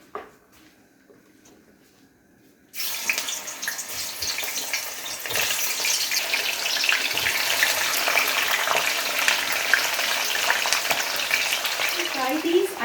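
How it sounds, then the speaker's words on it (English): Garlic and onion hit hot oil for deep frying after a quiet start, then a loud, steady sizzle and crackle runs close by without a break. "Fry these until they are golden brown in color."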